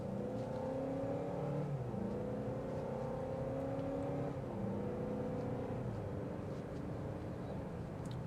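A 2025 Honda CR-V Hybrid Sport Touring accelerates. Its steady engine hum climbs in pitch in stepped surges and stays at an even, fairly strong level throughout, with no talking.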